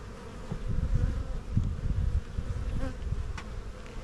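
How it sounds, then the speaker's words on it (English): A healthy honeybee swarm hums steadily while being moved into a new hive body, a dense, continuous buzz close by with a few brief louder swells and no talking. "Wow, I'm happy to see that many bees."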